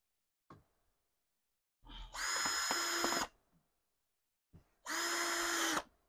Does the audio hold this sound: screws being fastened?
yes